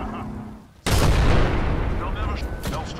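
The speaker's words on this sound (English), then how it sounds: "Throw my grenade out. Bring down some destruction." Grenade detonation in Apex Legends: a sudden loud broadband blast after a quieter stretch, followed by a sustained rumbling, crackling tail with scattered debris-like hits.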